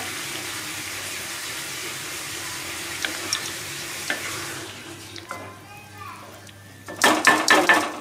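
Chow chow pulav is stirred in a pot, a soft steady sizzle with light utensil taps that fades out, followed by a burst of rapid metallic clatter near the end.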